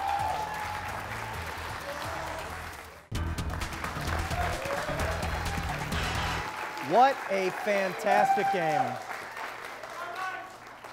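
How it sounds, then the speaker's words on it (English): Studio audience applause after a game show finale at the Nordloff Center, a wash of clapping under music and a host's voice that fades out partway as speech and chimes continue. "The applause practically continued all the way through our commercial break here at the Nordloff Center."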